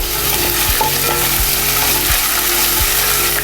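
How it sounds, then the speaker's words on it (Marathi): Ginger-garlic paste frying for mutton masala, a loud continuous sizzle close by with regular spoon strokes scraping the pan about once a second, no talking. "आता ह्याच्यात आपण 1 चमचा आलं लसूण पेस्ट घालूया. ही पेस्ट आपण छान परतून घेऊया."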